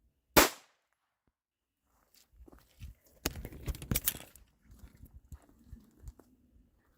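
A single sharp gunshot from a Mauser 1917 pistol firing .32 ACP full metal jacket rounds, loud and close, cracking once at the start, followed by a quiet pause and then clattering handling noises and low voices.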